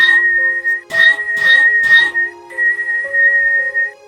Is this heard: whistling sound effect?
yes